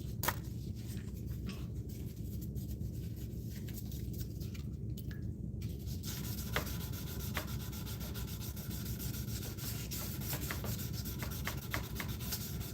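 Steady, close abrasive rubbing of 1000 grit sandpaper over aluminum, a continuous scratchy hiss that runs unbroken for the whole stretch with a few small scuffs and clicks.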